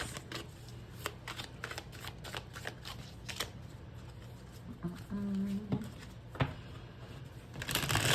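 Tarot cards are shuffled by hand in quiet, repeated bursts of riffling and soft slapping, close and fairly faint, with a few pauses between bursts.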